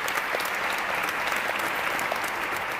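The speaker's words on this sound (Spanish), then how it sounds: "un aplauso también para él" Applause from a studio audience at a comedy program, brisk and continuous clapping at an even level through the whole short stretch.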